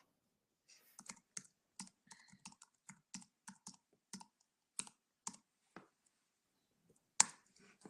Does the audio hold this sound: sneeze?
no